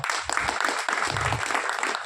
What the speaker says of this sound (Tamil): அதுக்கு மிகப்பெரிய கைத்தட்டலை கொடுக்கலாம்